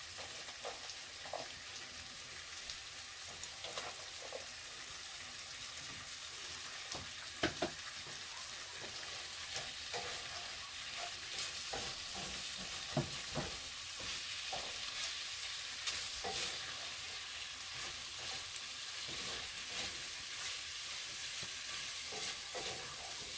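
A whole chopped onion fries in a pan, giving a soft, continuous sizzle with occasional stirring clicks as it cooks down, with no talking over it.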